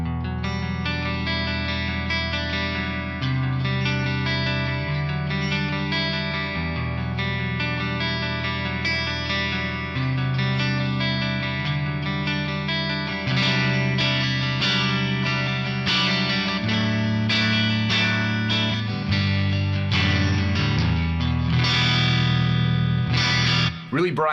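Electric guitar played clean on the neck pickup through a modeled amp with the bright switch engaged, drive near 5, ringing chords and melodic lines sustained for about 24 seconds, close and steady, alone without talk.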